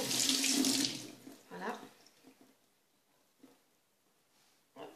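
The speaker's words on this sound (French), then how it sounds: "je vais mouiller le visage et on va en profiter pour mouiller mon éponge conjac" Tap water runs into a bathroom sink while a face and a konjac sponge are wetted, a strong splashing stream at first, then quieter drips and squishing; someone speaks briefly.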